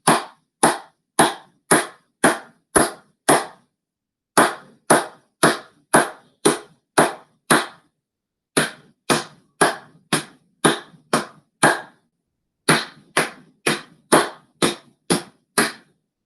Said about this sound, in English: Clap, pat, pat, clap, pat, pat, clap